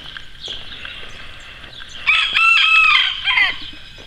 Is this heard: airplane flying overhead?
no